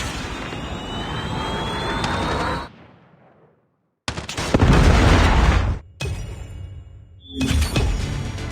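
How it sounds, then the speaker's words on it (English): In a Call of Duty match, a Predator missile strikes with a loud roaring blast, then a short silence before further heavy booms and rumbling bursts, the explosions alternating with sudden quiet gaps. "Predator missile inbound."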